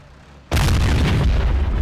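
A tank fires its main gun in the video game Men of War, a sudden loud boom that rolls on into a long, dense rumble, close and heavy, with no talking.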